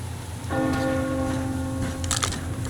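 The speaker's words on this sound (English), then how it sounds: "Do you hear that bell?" A church bell in the video game Metro Exodus rings out with one sustained, resonant tone that holds steady for a couple of seconds, loud and alone, with faint clatter near the end.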